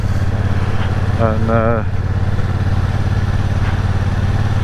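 A Triumph Bonneville Bobber Black motorcycle engine runs steadily while riding, a loud constant low drone throughout, with a brief spoken word and a short whistle-like tone partway through.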